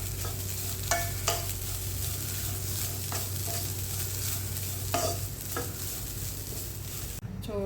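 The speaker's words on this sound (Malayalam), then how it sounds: "ഇത് നന്നായിട്ടൊന്ന് ഈ തേങ്ങ മൂപ്പിച്ചെടുക്കാം" Grated coconut with small pieces of shallot roasting in a pan, stirred with a spatula that scrapes and taps a few times over a soft steady sizzle, no talking.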